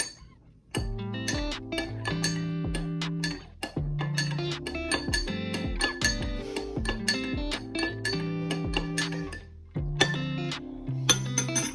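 Glass yogurt jars clink and knock together in a kitchen while baby yogurt is being prepared, making a long sequence of bright, ringing taps and clatters with irregular rhythm, close and fairly loud, without talk.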